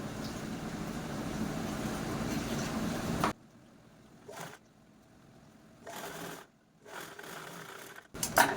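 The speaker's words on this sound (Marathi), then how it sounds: "इकडनं आपण हा अगोदर स्टिच करून घेऊ" Sewing machine running steadily for about three seconds as it stitches a trouser seam, followed by short separate bursts of stitching with quiet pauses in between.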